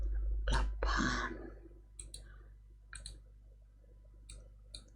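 Sharp computer mouse clicks during an online math lesson, a few quick close clicks in small clusters over faint room noise, with a louder rustle near the start.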